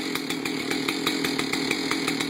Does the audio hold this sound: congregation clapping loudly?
no